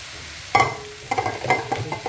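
Onions frying in an old wok, with a sudden scrape followed by a quick series of stirring clatters over a light sizzle, close and fairly loud.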